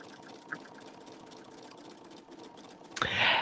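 An embroidery machine stitching out a design on a pillow project, a soft steady mechanical whir with faint rapid ticking, ending in a louder burst of noise.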